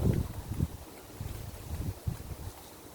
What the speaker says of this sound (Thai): วันนี้รู้สึกว่ามันจะ หนาวๆเพราะลมแรงมาก